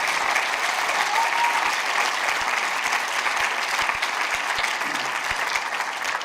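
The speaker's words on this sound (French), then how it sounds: "vous pouvez l'applaudir" An audience at a film premiere in the Jean Renoir cinema in Pontcharra applauds an actor with dense, even clapping that holds steady for several seconds and eases off slightly at the end.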